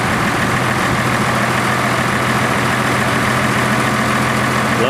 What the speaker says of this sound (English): Boy, what a smooth running tractor that is.